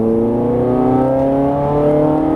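A Ferrari 430 Scuderia engine on a track revs up steadily and loudly from close by, its rising harmonic tone climbing without a break as the car accelerates.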